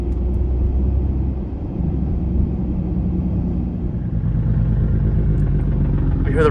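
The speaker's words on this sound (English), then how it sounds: "You hear the retarders?" Trucks' engine retarders (Jake brakes) rumble steadily from outside a Tesla RV moving through heavy traffic near Raleigh and Durham, a continuous low, loud drone that swells slightly toward the end.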